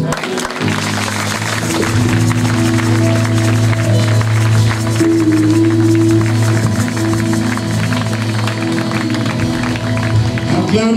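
A church congregation at a special seminar service cheers and applauds Jesus in a loud, continuous crowd roar layered over sustained music, filling the whole stretch without a break.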